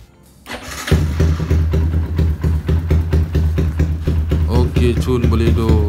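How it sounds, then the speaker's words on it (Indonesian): A rebuilt Yamaha Y15ZR motorcycle engine cranks and fires after a short pause, then settles into a loud, close, steady idle with a rhythmic pulsing exhaust note. "So mari kita start tengok boleh hidup ke tak boleh hidup."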